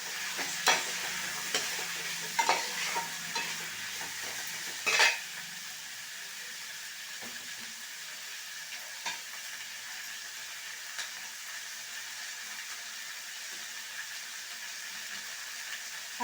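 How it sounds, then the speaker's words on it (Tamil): Vegetables for sambar, with curry leaves and coriander, sautéing in a pan with a steady hiss, broken early by a few scraping stirs and clinks of a spoon against the metal. "வெஜிடபிள்லாம் சும்மா கொஞ்சம் நேரம் வதக்கினா போதும், ஒரு 2 மினிட்ஸ் அந்த மாதிரி"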